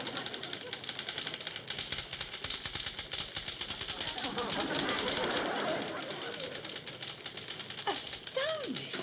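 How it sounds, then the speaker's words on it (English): Fast typing on a manual typewriter in a classroom scene from a 1960s sitcom, a dense rapid clatter of keystrokes running continuously, with voices talking over it and a brief tonal sound near the end. "You must be typing 200 words a minute."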